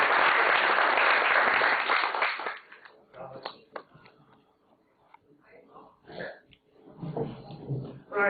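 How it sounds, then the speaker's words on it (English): A lecture audience at the Royal Asiatic Society bursts into loud applause to welcome the speaker, Brother Anthony. The clapping lasts about two and a half seconds, then fades into quiet room sounds and scattered faint noises. "A big round of applause."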